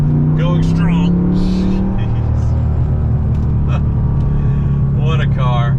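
A Lamborghini Murcielago with a new exhaust holds a steady, loud, low engine drone, with short bursts of a voice talking close over it.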